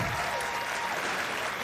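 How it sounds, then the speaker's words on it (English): A crowd at the Cache County Fair junior livestock show gives a big round of clapping, dense and steady from start to finish, with no speech over it. "Give them a big round of applause, please."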